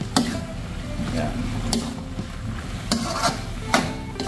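Fresh vegetables sautéing with a little meat in a pan, with a continuous sizzle and repeated spatula scrapes and knocks against the pan at an uneven rhythm, close up, with a brief spoken word.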